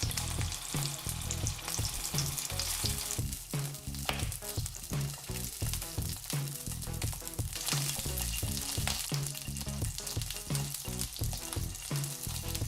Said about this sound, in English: leave them sit in the hot oil so the skin blisters and takes on some colour